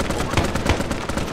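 Dense, rapid gunfire in Arma 3 Vietnam, a continuous loud stream of overlapping shots with no break, close and harsh.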